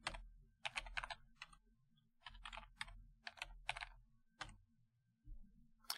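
Bursts of rapid key presses on a computer keyboard as a password is typed on a Raspberry Pi setup, close and clear, in several quick clusters separated by short pauses.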